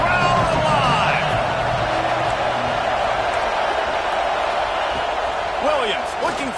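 A football stadium crowd at an Oklahoma versus Oklahoma State game roars steadily and loudly throughout, a dense wall of cheering and whistles, with a commentator's voice over the top.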